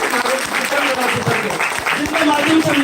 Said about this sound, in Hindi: एक जोरदार तालियां होनी चाहिए मेरे